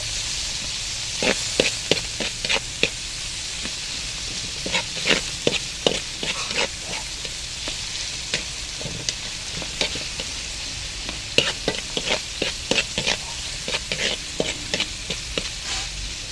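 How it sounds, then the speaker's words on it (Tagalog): Tomato, onion and squash sautéing in a pan for mung bean stew with shrimp, a constant close sizzle broken by a long series of rhythmic spatula scrapes and taps against the pan. "Nagisarman ta sang kamatis, sibuyas, kabawa."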